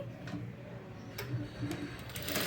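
A sewing machine stitches the front part of a blouse, a rapid, close mechanical ticking and whirring that runs continuously with a few sharper clicks, with faint voice-like sounds at times.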